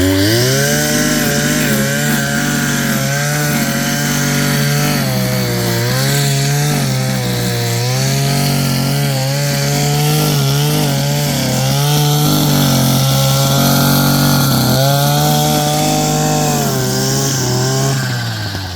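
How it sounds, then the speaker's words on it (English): PROYAMA 51.7cc brush cutter held at high RPM while cutting grass, a loud close two-stroke engine whine that rises and dips in pitch as the load changes, continuous throughout. "let's see what it does if I lay on it and just give it a lot of RPMs"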